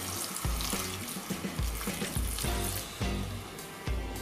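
Wine poured into a hot pan of scallops and prawns, producing a steady splashing, sizzling hiss with intermittent low thuds and bubbling.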